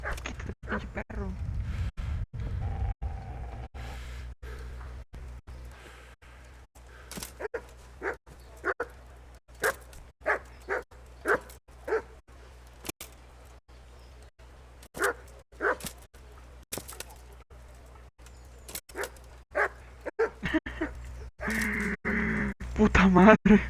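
A dog barking in the video game Kingdom Come: Deliverance: repeated sharp barks in an irregular series over about twenty seconds, close and distinct, with a voice speaking at the start and end.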